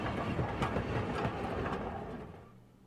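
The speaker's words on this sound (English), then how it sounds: "It seemed the train had reached the final stop." A passenger train rumbles and clatters along the rails toward its final stop, a steady loud rolling noise that tapers off near the end as it slows.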